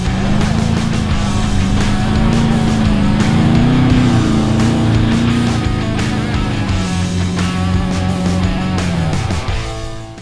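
Off-road vehicle in second gear climbing a beach sand dune: a loud, close, continuous engine drone under strain, pitch wavering as it pulls, with scattered knocks, easing off near the end.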